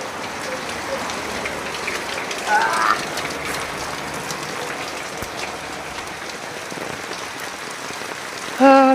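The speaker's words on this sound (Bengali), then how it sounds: "বৃষ্টি।" Constant rain patters and hisses throughout, with a brief clatter partway and a short chirping sound at the very end.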